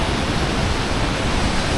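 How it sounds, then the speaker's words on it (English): Devil's Throat waterfall on the Brazil–Argentina border, a huge volume of water plunging hard, heard as a loud, dense, unbroken roar close by. "So all this water falling with a lot of strength that you are able to see, especially over there. That's the Devil's Throat."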